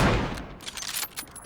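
Fireworks explode in a rapid string of sharp cracks after one big opening blast, loud and close, crackling over about a second and a half.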